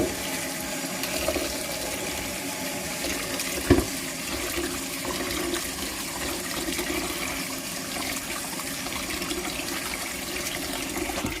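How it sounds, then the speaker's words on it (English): Sea moss being washed in water, a continuous, fairly loud rush and slosh of running water with one sharper splash or knock partway through, no talk. "All right, so we're gonna wash this well."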